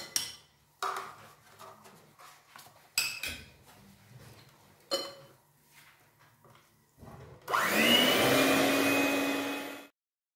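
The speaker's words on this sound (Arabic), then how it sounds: "غادي نضربهم شوية حتى يولي لنا هاد الخليط كريمي" Cake batter for a birthday cake being whisked until creamy, with scattered utensil clinks and taps at first, then a loud, steady whirring mixer run for the last couple of seconds.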